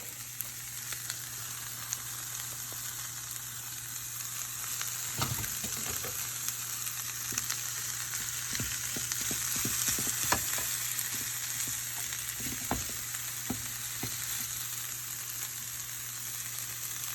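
Cabbage, garlic and bratwurst fry steadily in a skillet, a constant close sizzle with occasional stirring scrapes and clicks over it.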